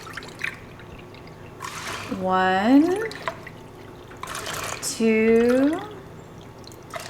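Water is poured into a cooking pot for elderberry syrup, a steady nearby pour with rising pitch as the pot fills, in two separate bursts, while a person talks and counts between them.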